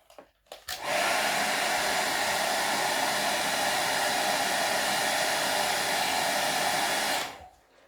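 A heat gun blows a steady, loud, unbroken roar for about six seconds while warming carbon wrap film on a motorcycle fairing, starting abruptly and cutting off cleanly, with a few faint handling clicks just before it starts.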